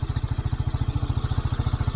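A motorcycle on a mountain riding trip to Yumthang valley idles close by, its engine thumping in a fast, even pulse throughout.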